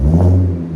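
A 440 hp supercharged 3.0L V6 Audi S4 with down pipes and a 14-inch Magnaflow exhaust gives a short, loud rev, a close, throaty burst of exhaust roar with a low drone beneath.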